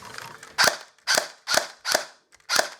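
A Cyma Glock 18C AEG airsoft pistol, rewired and running on a 7.4V LiPo battery, fires five sharp, loud bursts at a steady rhythm of roughly two per second, with short quiet gaps between them.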